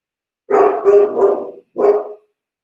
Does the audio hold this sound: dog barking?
yes